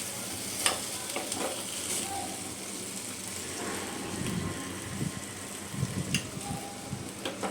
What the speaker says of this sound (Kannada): ಆದಷ್ಟು ಸಣ್ಣ ಉರಿಲೇ ಫ್ರೈ ಮಾಡ್ಕೊಳ್ಳಿ